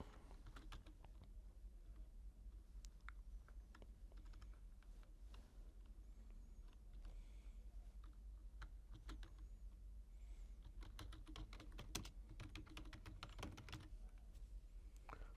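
Someone types on a computer keyboard at a desk, with quiet irregular key clicks and occasional sharper taps over a low steady room hum, no voices.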